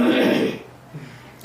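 A single throat clearing, close and fairly loud, a rough rasp that fades into quiet.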